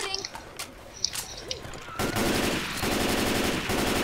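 Rapid, continuous M16 rifle fire in Left 4 Dead 2 rattles on for about two seconds, following game noise and players talking.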